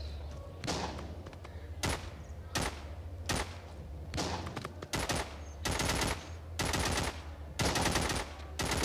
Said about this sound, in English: Amazing AK-47.